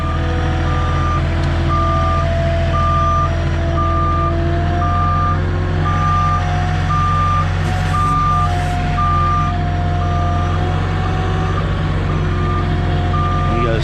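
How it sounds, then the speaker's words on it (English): A delivery truck loaded with sheetrock reverses, its backup alarm sounding evenly spaced beeps at a steady rhythm over the continuous low rumble of the idling diesel engine, close and loud with no talking. "I'm gonna back on in."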